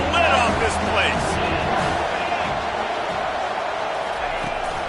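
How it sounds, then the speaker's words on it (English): A loud football stadium crowd roars and cheers steadily on a third-down play, a dense wall of voices sustained throughout with a commentator talking over it. "Third down, and this crowd is tearing the lid off this place."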